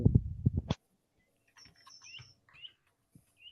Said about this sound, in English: We're loving that bird song, aren't we, Bruce?